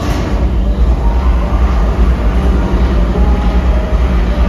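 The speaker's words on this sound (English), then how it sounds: "Let's start the conveyor belts." A loud, continuous mechanical rumble with a faint rhythmic clatter of mine conveyor belts at a mine museum, running steadily without pause.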